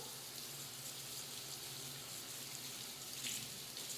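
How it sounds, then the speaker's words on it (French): Canned beans rinsed under a running kitchen tap: a steady, faint hiss of flowing water that continues throughout, with a slight splash near the end and no talk. "Je vais la rincer. C'est important de bien rincer les haricots."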